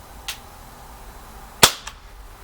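A Gamo MP9 blowback CO2 airgun fires one sharp, loud crack during a field test, preceded by a fainter earlier pop and followed by a quick mechanical click.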